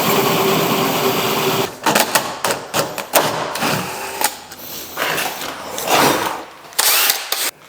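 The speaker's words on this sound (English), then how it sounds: "Using a 50mm hole saw, we're just going to start going in from one side." A 50mm hole saw cuts into one side of a door for a smart lock, giving a rough, grinding whir that runs steadily, then breaks into uneven bursts and pauses as the bit bites and stops.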